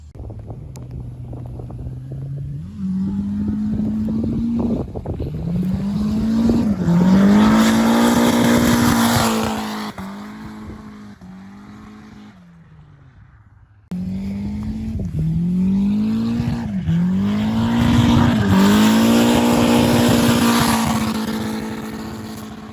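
A Nissan 350Z engine revs loudly and close by, rising and falling in pitch across several throttle pulls, with a short drop to idle before climbing again, no talking over it.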